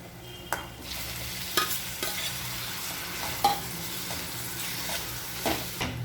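Chopped tomatoes frying in a pan for Kerala tomato curry, stirred with a steady sizzle and a few sharp utensil scrapes and clicks against the pan, close and alone without talk.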